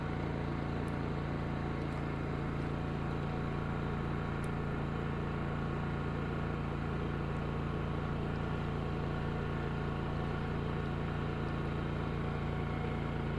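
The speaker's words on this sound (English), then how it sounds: "The generator is extremely quiet" A Wen DF452iX dual fuel inverter generator running at no load with a steady, even engine hum and tonal drone that does not change throughout.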